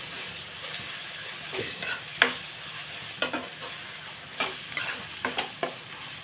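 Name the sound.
frying and stirring ginger garlic paste for chicken curry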